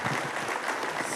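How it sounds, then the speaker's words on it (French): Warm audience applause for two speakers at a talk on scientists and engineers serving society, a brief dense burst of many hands clapping at steady volume with no voices. "on vous applaudit chaleureusement"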